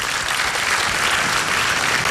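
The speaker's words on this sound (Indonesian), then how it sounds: "Boleh tepuk tangan untuk semua yang sudah hadir malam hari ini?" A large audience at the Anugerah Seputar Indonesia RCTI awards ceremony applauds. The clapping is loud, dense and continuous for about two seconds, with no voices over it.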